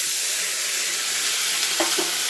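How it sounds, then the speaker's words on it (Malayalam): Mustard seeds fry in hot oil with a steady, dense sizzle and occasional faint pops, close up and without talk. "അടുത്തത് കടുക് വറക്കാൻ ഇട്ടു"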